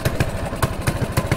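A mini bike's small engine idles close by with a rough, uneven putter, pulsing in short repeating beats over about a second and a half, with no talk.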